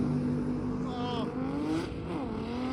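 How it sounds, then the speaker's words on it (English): A turbocharged BMW race car with an M50 engine and manual transmission at a drag strip, heard as a steady engine drone with rising and falling whine tones, likely from a distance, over a continuous background of noise. "The BMW is still BMW powered. It's got an M50 in it, turbo, manual transmission."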